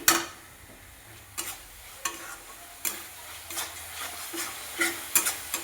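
Chili powder and spices being stirred in a pan, a soft sizzle underneath with scattered scraping strokes of the spoon, several sharper clinks spread across the stretch, close and fairly quiet.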